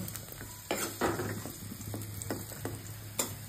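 Small fried potato pieces lifted out of a frying pan, with soft sizzling and several sharp scraping clicks of a utensil against the pan, close and fairly quiet.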